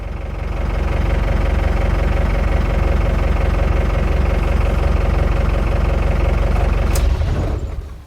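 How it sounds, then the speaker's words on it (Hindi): A Mahindra Bolero Di Turbo with a BS3 diesel engine idles just after starting, with a loud, steady, rough clatter that runs evenly before easing off near the end. "अब देखो इंजन भी स्टार्ट हो गया।"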